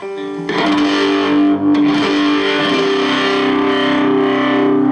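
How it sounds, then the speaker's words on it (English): Overdriven electric guitar chords ring out with gritty boosted tube preamp distortion, loud and sustained, a sharp strum near the start then held notes. "You can already hear a slight distortion when you go to channel 2."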